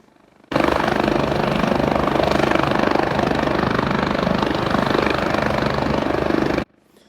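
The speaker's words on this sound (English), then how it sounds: "So she's in the chopper now" A rescue helicopter in the bush runs steadily and loudly for about six seconds, a dense continuous rotor and engine roar with no voices, starting and stopping abruptly.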